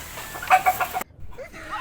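A chicken clucks a few times up close, short bursts over a rough background, then the sound cuts to quieter rustling.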